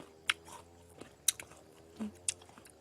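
Crunchy Kim Ju guava dipped in chili salt being bitten and chewed up close, a few distinct crisp crunches spaced apart over a quiet background, with no speech.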